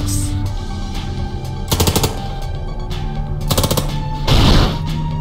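Rapid bursts of automatic gunfire in the military video game Long Gone Days, two loud staccato volleys followed by a heavier blast, set over a steady game music background.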